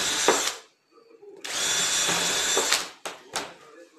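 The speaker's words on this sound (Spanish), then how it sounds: "ahora le voy a hacer dos agujeros acá" Power drill boring two holes into a wooden piece meant to mount on a wall, two loud sustained whining bursts separated by a short pause, followed by brief shorter spurts of drilling.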